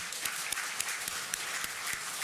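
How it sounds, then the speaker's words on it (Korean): A church congregation at Sunday worship claps for the church mothers, a steady roll of many hands filling the sanctuary, with a few sharper individual claps standing out against the even wash. "우리 어머니 성도들을 위해서 박수 한번 보내겠습니다."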